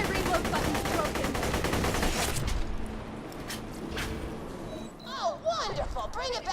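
Rapid automatic gunfire in the video game Borderlands: The Handsome Collection on raid difficulty, a dense loud burst for about two and a half seconds, then scattered single shots and electronic effect chirps under a speaking voice.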